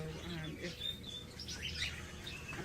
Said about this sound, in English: Birds are the most intelligent things that we sell here.